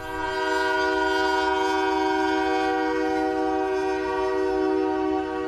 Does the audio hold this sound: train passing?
yes